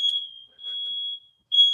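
A smoke alarm sounds in steady high-pitched electronic tones: a long tone, a short break, another tone, then a pause before it starts again, clear with nothing else heard.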